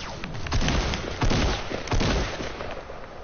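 Repeated bursts of video game gunfire crack out in quick, uneven volleys, loud and close, with several heavier booming shots spread across the stretch.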